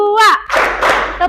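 A quick burst of claps in a counted classroom clapping game (tepuk), led by a teacher with children. A voice comes first, then a short run of close, sharp hand claps.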